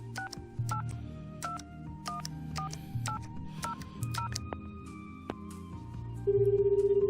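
A phone is dialed in the Shenmue III video game: a quick run of paired touch-tone beeps, evenly spaced and clear, ending in a steady ringing tone, with no speech.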